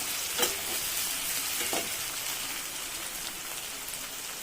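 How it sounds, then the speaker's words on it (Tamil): Curry ingredients sizzle and fry steadily in a pan, a continuous close crackle with a couple of brief stirring scrapes early on. "ஒரு 2 நிமிஷம் பச்சை ஸ்மெல் போகிற வரையும் வதக்கி விடுவோம்."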